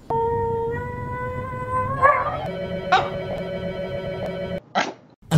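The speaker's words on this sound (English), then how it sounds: "this is the sonorous war cry of a very angry frog" Desert rain frog giving a sustained, high squeaky war cry like a dog toy, a steady tonal squeal that wavers in pitch, with a couple of sharper squeaks near the end, close and clear.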